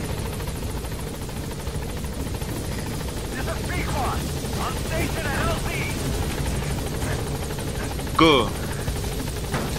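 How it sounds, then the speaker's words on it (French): A helicopter arrives in Metal Gear Solid V: The Phantom Pain, its steady rotor drone filling the whole stretch under game sounds and a shout near the end. "Ah, voici l'hélico."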